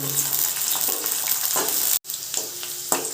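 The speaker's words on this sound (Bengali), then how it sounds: "একটা ছোটো পেঁয়াজ কুচিয়ে রেখেছিলাম ওটা দিয়ে দিলাম পেঁয়াজটা আমি পুরো লাল লাল করে নেব" Chopped small onion sizzling and frying in hot oil for a chicken curry, a steady crackling hiss with scattered stirring clicks and a brief break partway through.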